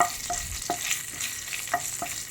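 Ajwain and dried red chillies fry lightly in oil over a medium flame, a moderate steady sizzle with soft, irregular scraping and stirring taps from a spoon in the pan.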